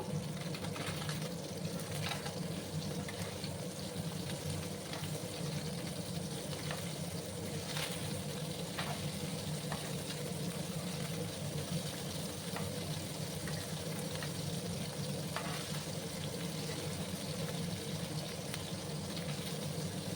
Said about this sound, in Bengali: এদিকে আমার মাছগুলো ভাজা হতে থাক